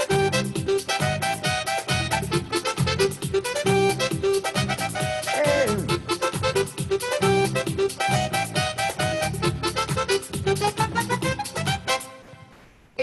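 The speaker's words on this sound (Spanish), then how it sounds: "Y el mambo más o menos suena así." Piano playing a mambo pattern in a popular tropical style, a steady syncopated stream of bright chords and octave figures that runs loud and continuous for about twelve seconds before stopping abruptly.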